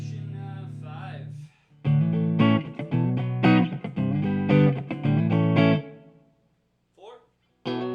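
Telecaster electric guitar on pickup position 5, played clean with a touch of reverb, rings out in a few seconds of strummed chords and sustained notes, then trails off into a couple of brief plucked notes near the end.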